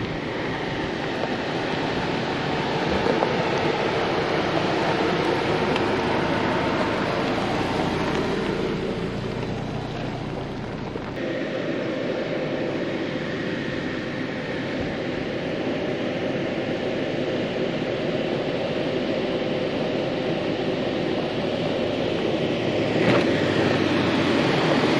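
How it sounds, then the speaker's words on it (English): A 2024 Subaru Crosstrek Wilderness creeps down an off-road hill, its steady low drivetrain rumble and broadband road noise running continuously, with a brief dip partway through and no voices. "Hill descent control controlling the descent pretty well"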